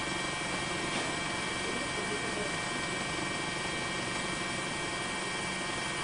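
Helicopter carrying a news camera crew over Sendai during tsunami coverage, a steady, loud, continuous rotor and engine drone filling the whole clip with no speech.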